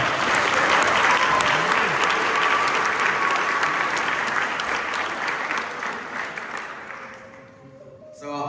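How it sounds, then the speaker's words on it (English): Audience applause at a high school volleyball spring awards event, loud, dense clapping that runs steadily for several seconds, then fades and breaks off near the end. "So give them another round of applause."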